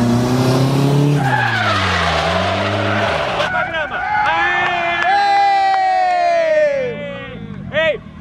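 Tires squeal loudly as a car skids through a turn on the Speedway Music Park track, a long rising and falling screech with engine noise, voices and a crowd in the background.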